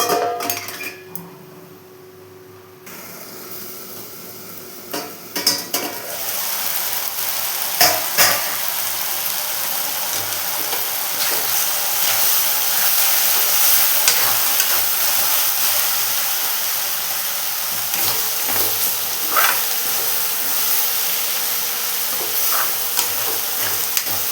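Fenugreek leaves (methi bhaji) sizzle and fry in a pan on the stove, with a steady hiss and intermittent scraping stirs building after a quieter opening few seconds.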